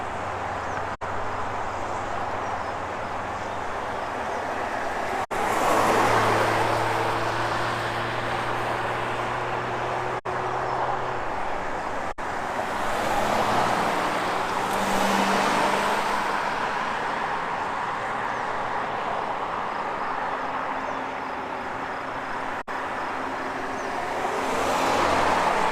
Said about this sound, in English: Got a line of 3 cars coming.